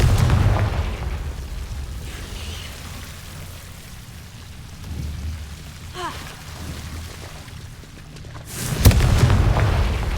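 A Confringo spell explodes in Hogwarts Legacy with one loud, sharp blast near the end, after a stretch of low rumbling ambience.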